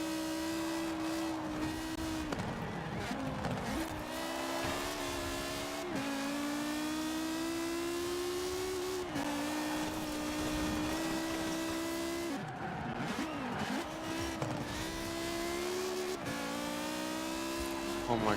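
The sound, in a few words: rally car engine and tyres in a racing video game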